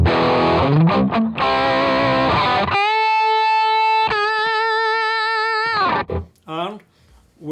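A distorted electric guitar played through a Kemper amp profile with the clarity setting raised: chugging chords, then a long sustained bending note, ending in short stabs and pick scrapes, loud and close.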